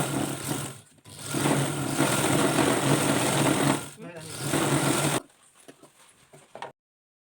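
A sewing machine runs in long steady bursts while stitching loose stitches on a girl's frock, stopping briefly between runs, then a few softer clicks before silence; someone talks throughout.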